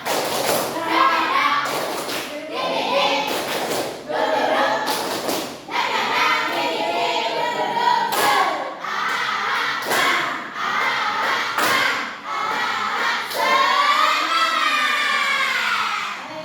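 A school class gives a rhythmic spirit clap in a classroom, with repeated patterned claps and thumps mixed with loud children's chanting and voices throughout.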